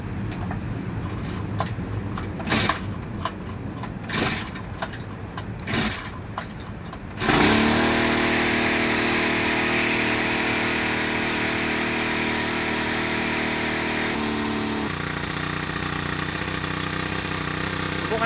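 A Honda GX35 small four-stroke engine, left unused for three months, sputters and knocks for about seven seconds. It then catches and runs at a loud, steady high idle close by.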